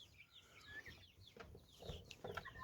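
Guinea hens cluck softly and intermittently nearby, short throaty calls with quiet gaps between them.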